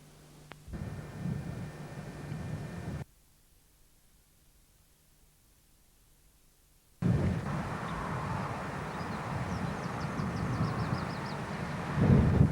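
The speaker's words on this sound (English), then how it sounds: "a Yarmouth Derby train heads down the main line between the French Drove loops" A Yarmouth to Derby train runs down the main line between the French Drove loops, a broad steady rumble and rush that drops away to near-silence for a few seconds, then returns loud and close.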